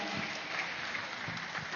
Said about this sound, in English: So let's give a big round of applause to them.